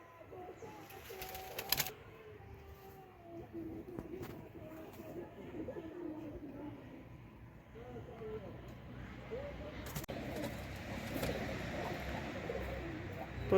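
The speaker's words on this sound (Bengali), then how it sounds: "তো এই খোপের কবুতরগুলো হইতেছে সবগুলো ঢুকে গেছে," Deshi golla pigeons in their loft, soft low cooing from several birds with a brief wing flap, under a faint background of talk.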